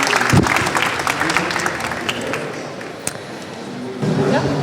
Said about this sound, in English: big applause to Wooups